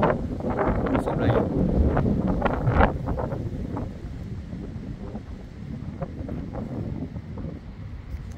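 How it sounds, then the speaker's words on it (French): Strong wind gusts from storm Herminia buffet the microphone in loud, rough bursts that ease slightly toward the end. "Là, ça sent les rafales qui arrivent."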